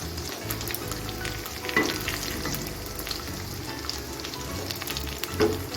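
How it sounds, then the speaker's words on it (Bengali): Paneer kofta balls shallow-fry in a pan, crackling and sizzling steadily up close, with scattered sharper pops and a few utensil clinks, no voices. "এভাবে আমি শ্যালো ফ্রাই করে দিচ্ছি কোপ্তাগুলো"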